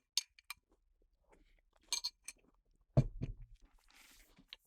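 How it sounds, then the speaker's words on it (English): Crunchy cereal eaten close to the mic, with soft bites and crunches between short gaps, a few light clinks of a spoon against a bowl, and a louder burst of chewing near the end. "I'm just going to have a little bit of cereal."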